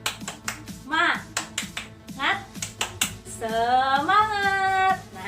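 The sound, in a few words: rhythmic 'tepuk semangat' spirit clap by class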